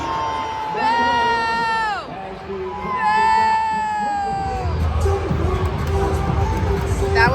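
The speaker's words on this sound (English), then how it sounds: "That was some loud booing right there." A hockey arena crowd boos loudly and long during a goal review at a South Carolina Stingrays game, sustained drawn-out voices swelling twice over a constant roar of mixed crowd noise.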